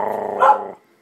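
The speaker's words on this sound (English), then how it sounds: "You're a crazy dog, Shy." A pet dog gives a single short, gruff bark with a growly edge, close and loud, ending abruptly into silence.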